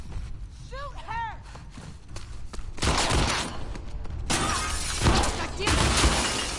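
In the video game The Last of Us Part II, gunfire goes off in a tense fight. It comes as sharp, loud, broadband bursts spaced a couple of seconds apart, with shattering debris and scattered game effects in between.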